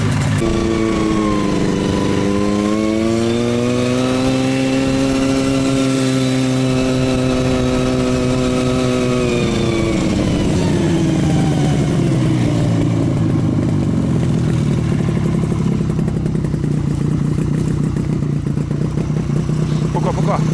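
A snowmobile-type motor vehicle towing a sled revs and idles up close, its engine pitch rising and falling steadily as it turns, then settling into a rougher, lower drone as it pulls away.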